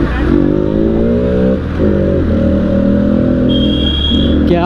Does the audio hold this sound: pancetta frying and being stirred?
no